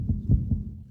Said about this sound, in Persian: بله، این صدای تپش قلب ها برای چه میتپد؟